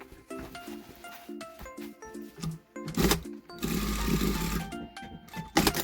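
A sewing machine stitches a bag made from a denim skirt in short bursts of rapid mechanical chatter with brief pauses, close and fairly loud, with no talk over it.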